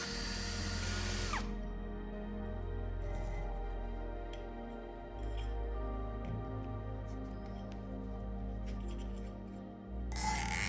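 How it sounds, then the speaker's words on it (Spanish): An electric drill bores holes into the cooling fins of an electric motor, a steady, loud whine running continuously with slight shifts in pitch as the bit works through the metal, no voices. "Para acoplar el condensador, hacemos unos agujeros en las aletas del motor."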